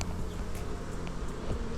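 A soft, continuous buzzing of many honey bees at a hive, steady and fairly quiet, with occasional single insects passing closer.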